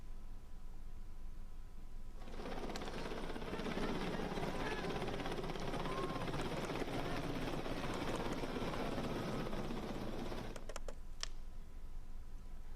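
A steady helicopter drone with rotor chop rises in, holds loud and continuous for several seconds, then cuts away sharply.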